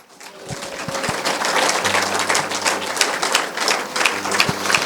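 A church congregation claps together in praise, a dense, steady patter of many hands filling the room alongside sustained tones from voices or instruments.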